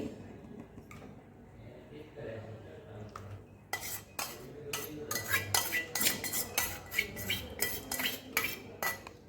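A spoon stirs and scrapes crushed green chickpeas roasting in ghee in a kadai, in a quick, rhythmic pattern, with metallic clinks growing busier after a quieter start.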